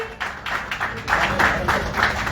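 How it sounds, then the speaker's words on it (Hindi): Audience applause at a press conference in Mumbai, a dense patter of many hands clapping steadily and swelling slightly, fairly close and loud, with no speech over it. "जोरदार तालियां हो जाए।"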